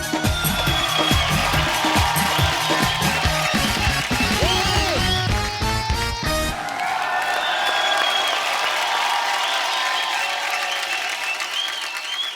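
A studio audience on a comedy talk show gives loud, sustained applause and crowd noise to welcome a guest, with music tones running underneath for the whole stretch.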